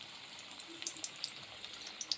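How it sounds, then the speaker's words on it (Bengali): Gima greens pakoda frying slowly in hot oil, a faint steady crackle with scattered small pops and sputters. "আস্তে আস্তে করে এটা ভাজা হোক"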